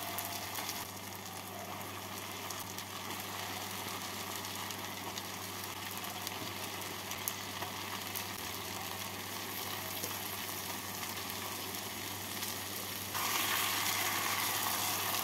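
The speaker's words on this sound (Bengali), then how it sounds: "চিকেনের টুকরোগুলোকে 2-3 মিনিটের মতন ভেজে নেব" Chicken pieces frying in a pan with onion and tomato, a continuous dense sizzle with a low steady hum beneath, growing slightly louder near the end.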